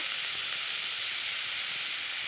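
Green chillies sizzle in a pan of oil with taro and prawns, making a loud, even, unbroken hiss with no clear stirring strokes.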